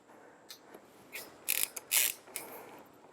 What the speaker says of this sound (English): And now we're just going to screw that all the way down. We're going to use the size 11 socket here.